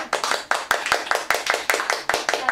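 A small studio group claps in a live café-bar broadcast from Studio LaRuche in Shinjuku, with about a dozen crisp, close, fairly regular clap bursts and no voices.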